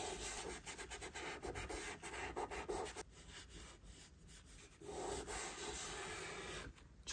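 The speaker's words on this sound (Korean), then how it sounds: "휴지를 사용해서 연하게 번지게 만들어 볼게요. 너무 세게 하지 말고 천천히 문지르듯이 어두운 부분 위주로 해주셔야 돼요" Tissue rubbed over a pencil drawing to soften and blend the shading, giving a steady, close, soft scrubbing with repeated short strokes and a brief pause partway through.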